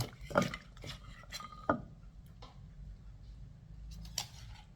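Utensils clink and scrape against a bowl while radish and other ingredients for a spicy Thai salad are tossed, with a couple of sharp knocks early on. No one speaks.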